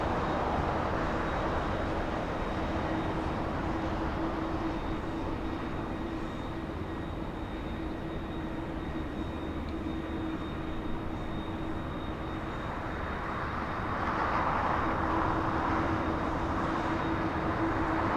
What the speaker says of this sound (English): It's actually coming from United. It's a Dreamliner 787-10 on Taxiway Hotel.